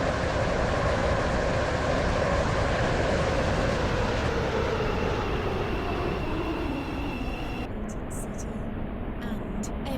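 A Stepford County Railway train in a video game rolls into Hampton Hargate station with a loud, steady rumble that slowly eases off, under automated onboard announcements.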